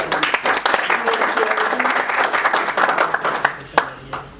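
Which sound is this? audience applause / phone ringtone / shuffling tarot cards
audience applause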